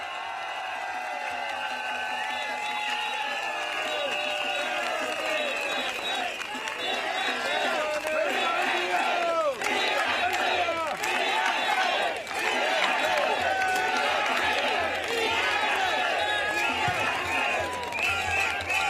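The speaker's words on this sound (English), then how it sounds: "Thank you for your cheers." A large outdoor crowd at a Progress Singapore Party political rally in Jurong West Stadium cheers and applauds loudly and continuously, a dense roar of clapping and shouting with voices mixed in throughout.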